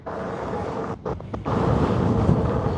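Strong gusts on a windy day outdoors buffet the microphone in a continuous rumbling rush, briefly dropping out before surging back even louder.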